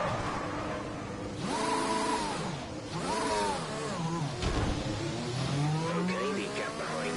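A racing car engine running with its note rising and falling through gear changes, a loud close whine that climbs, dips and climbs again over several cycles.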